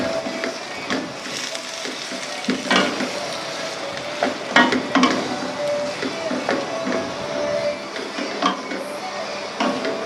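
Food stir-frying in a wok in a home kitchen, a steady broadband sizzle with repeated scraping and clanking strikes of utensil on metal, close and moderately loud.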